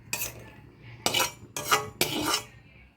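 Roasted nuts for a millet laddu are tipped into a mixer jar in four distinct bursts, each a clattering, rattling pour of hard pieces against the jar with a brief quiet gap between them.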